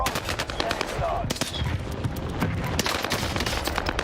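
A rapid automatic weapon fitted with a Mercury silencer fires from a crouch in Call of Duty Warzone, producing dense, fast, continuous bursts of clattering shots up close, with no break for the whole stretch.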